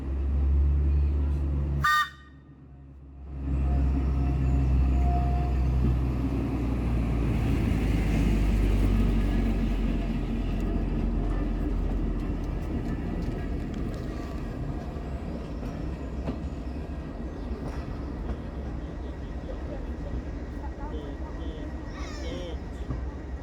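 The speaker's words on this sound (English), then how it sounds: "our train finally pulls into the station, pulled by 2 Class 37s" A train hauled by two Class 37 diesel locomotives arriving at a station on a heritage railway during a diesel gala, a loud sustained low engine rumble and rail noise after a brief whistle, continuing steadily near.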